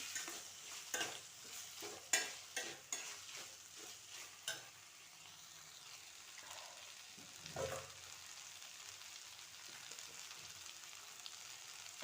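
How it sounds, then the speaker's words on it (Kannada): Avarekai (field beans) stirred in a frying pan, a steady sizzle under repeated scraping and clinking strokes of a spoon, louder bursts early then settling into a continuous fry, with no talking. "ಆಮೇಲೆ ಹಾಕಿ ಮಿಕ್ಸ್ ಮಾಡಬೇಕು ಚೆನ್ನಾಗಿ"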